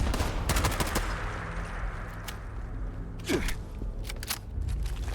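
Gunfire crackles through a video game match: several sharp shots in quick bursts, including a sniper shot, ring out over a steady background hum, with no talk during the shots.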